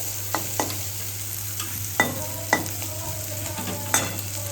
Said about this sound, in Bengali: আমি দুটো একসঙ্গে পাইল করে একটু ভেজে নিচ্ছি কড়া কড়া করে